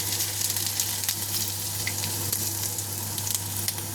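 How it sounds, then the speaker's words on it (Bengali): Whole cumin seeds and two bay leaves fry in hot oil, giving a steady close sizzle with fine crackling throughout and no talk, with a low constant hum underneath. "দেখো জিরেটা কিন্তু আমার ভাজা হয়ে গেছে"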